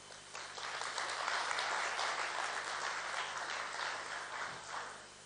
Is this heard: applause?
yes